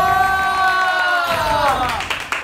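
A small group of people cheers and whoops during a board-game challenge, with a bright rising chorus of voices and scattered claps near the end.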